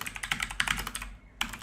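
Quick bursts of key clicks on a computer keyboard as a sudo ufw command is typed in a Linux terminal, close and crisp, with a brief pause before a final keystroke.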